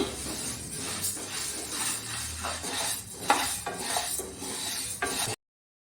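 Mung beans dry-roasting in a pan over a low flame, stirred so the grains clink and rattle against the metal in steady, uneven scraping bursts close up, with no voices.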